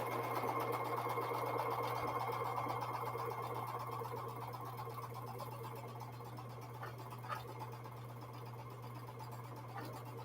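A sewing machine stitching quilt blocks for a jelly roll chain quilt, a steady, fairly quiet motor hum with a rapid needle patter running continuously without talk.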